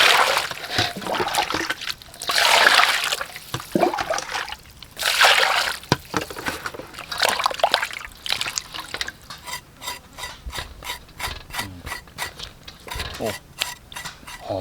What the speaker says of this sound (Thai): ล้างน้ำก่อน ล้างก่อน